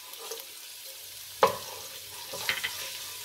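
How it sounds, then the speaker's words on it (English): Fresh garlic and red pepper stirred in a hot pan for a fish soup, a quiet sizzle broken by a couple of sharp scraping strokes of the spoon. "You're going to give this a little stir."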